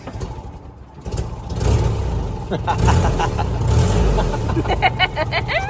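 A manual vehicle's engine is revved gently as a little gas is given, a mid-pitched motor drone swelling and holding up close while people talk over it.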